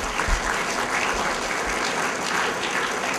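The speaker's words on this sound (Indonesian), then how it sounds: "Kita bagi tepukanlah pada kita sudah dan pada Tan Sri." Audience applause at a science and technology symposium in Terengganu, a dense, steady clapping from a crowd that continues evenly throughout with no talk.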